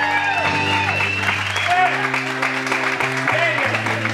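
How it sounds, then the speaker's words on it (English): A crowd at a winery concert applauds performers, and the clapping sits under sustained music and a voice speaking over the top. "Give them a big round of applause."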